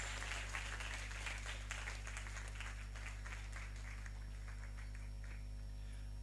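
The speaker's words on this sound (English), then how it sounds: "And for our facilitator, Madam Doris Ahiati, a round of applause for her, please." An audience gives a round of applause for an event facilitator, a faint, scattered patter of clapping that thins out over several seconds above a steady electrical hum.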